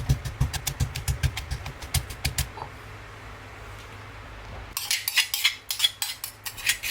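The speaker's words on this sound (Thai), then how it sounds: "ต่อไปเราก็นำพริกกระเทียมมาโขลก กันต่อได้เลยนะครับ" Chili and garlic pounded in a stone mortar in a home kitchen for stir-fried kale with salted fish: a run of sharp, rhythmic knocks, a quiet pause, then a second burst of quick, bright clattering strikes, close and alone.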